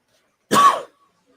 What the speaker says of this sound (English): Nearly coughing.